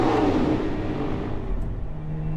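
A 2022 Lotus Emira sports car in track mode pulls through Dubai streets, its engine a steady, low rumbling drone heard from inside the cabin, easing slightly as it goes, with no talk.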